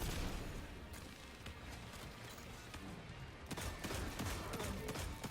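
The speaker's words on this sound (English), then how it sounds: "So you can see I'm just spamming sniper." Sniper rifle fire from the video game Destiny 2, heavy booming shots over a rumbling battle background, quiet overall with a sharp cluster of reports near the end.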